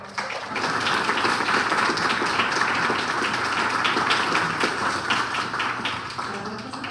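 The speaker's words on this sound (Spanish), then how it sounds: "Un aplauso para la maestra." An audience claps for a teacher at a lecture, a thick, continuous wash of applause that holds level for most of the stretch and eases slightly at the close, with no speech.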